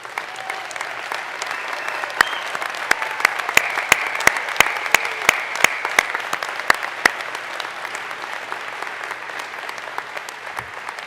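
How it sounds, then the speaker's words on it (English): Sustained applause from an audience at a university presidential installation, a dense steady wash of many hands clapping with a few louder claps standing out. "Please stand, Chuck, so that we can all give you a big round of applause"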